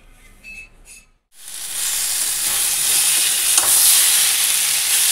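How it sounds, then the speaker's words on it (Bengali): Fish curry frying in a pan while being stirred, a steady loud sizzle and hiss starting after a short pause and continuing, with scraping stirs and no talking. "মাছের তরকারি বসিয়ে দিয়েছি"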